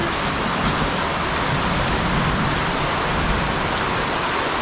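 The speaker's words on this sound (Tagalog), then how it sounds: "lumalakas ang ulan" Heavy rain pours down in a steady, loud hiss, a continuous dense patter with no pauses and no voices.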